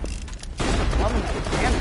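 Pistol gunfire in Borderlands 2 sounds as a dense burst of loud shots crackling through the second half, with game effects and some talk mixed in underneath.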